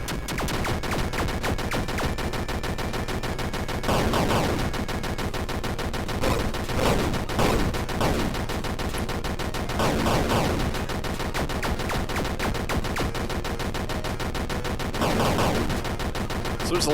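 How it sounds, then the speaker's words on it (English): Homing shot gunfire in the retro indie game Wild Dogs, rapid continuous shooting that runs throughout with periodic heavier explosive bursts, loud and dense, with a voice talking underneath. "So glad I have the homing shot though."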